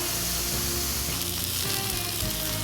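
Frozen Angus beef burger patties sizzling on a grill, a steady close crackle and hiss that runs the whole time alongside a low hum, with no voices.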